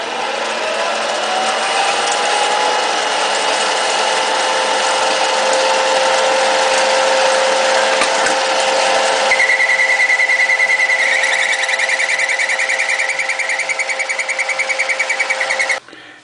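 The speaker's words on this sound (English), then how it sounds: "Now I'm going to cut the tenon on there" A die cuts a tenon on a handmade fountain pen section, giving a loud, steady mechanical whine with a sustained tone that shifts higher partway through, then stops abruptly at the end.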